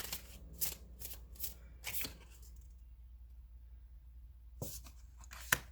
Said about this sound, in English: Let's get one more card.